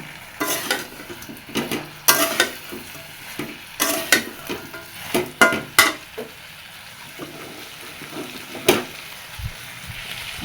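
Boiled vegetables are stirred with mustard in a pan with a little water: a string of sharp utensil scrapes and knocks on the pan, irregular and close, over a soft low sizzle.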